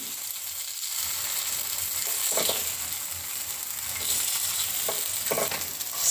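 Appe turning in a greased appe pan over low heat, with a steady soft sizzle of frying batter and a few light scraping clicks as each one is flipped, no talking.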